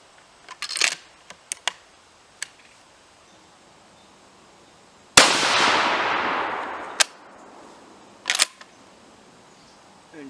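A 6.5 Creedmoor rifle loaded with 142-grain Sierra MatchKing bullets fires a single sharp, loud shot that rings out and decays over a second or two, with a few faint clicks and handling noises before and after.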